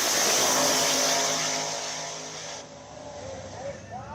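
A drag race car engine roars loud and close at full throttle, then cuts off abruptly partway through. Quieter background noise and faint voices follow.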